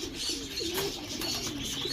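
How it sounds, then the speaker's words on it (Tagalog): Pigeons coo softly and steadily in a short burst, with faint chirps mixed into the low, repeated calls. "Ayan na, dumating na ang ating mga ibon."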